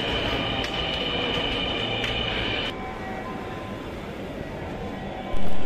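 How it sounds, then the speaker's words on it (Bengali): A Dhaka metro rail train arriving at Karwan Bazar station. Close, steady rumble with a high brake squeal fades halfway through, leaving a lower rolling hum that ends in a sudden louder thump. "আমাদের ট্রেন ইতিমধ্যে চলে এসেছে, উত্তরা উত্তরগামী ট্রেনটি।"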